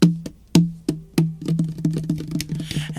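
A voice imitates heavy, loud tropical rain in Hawaii, building from a few separate percussive drops into a quicker, denser patter of mouth-made plops and pops, sounded alone without talk.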